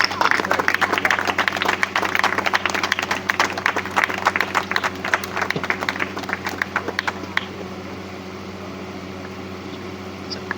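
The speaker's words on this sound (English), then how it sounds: "Please give him a big round of applause." Applause from an audience at a grassroots football league closing ceremony and summer camp, honouring the tournament's under-12 best player; dense steady clapping for about seven seconds, then thinning out, with murmuring voices and a fan-like hum beneath.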